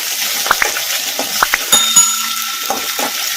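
Egg frying in a pan as salt and pepper are stirred in, with a steady soft sizzle under several sharp scraping clicks of a spatula against the pan.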